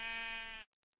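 A single sheep in the Minecraft video game lets out one clear, loud bleat lasting about half a second, then it cuts off into near silence with a few faint clicks.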